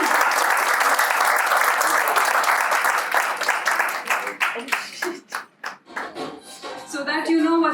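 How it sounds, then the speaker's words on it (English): An audience claps at a Gabru Gang press conference for the Singh Motorcycle Club, dense applause that thins into scattered individual claps before a voice speaks at the end. "we can keep clapping for him"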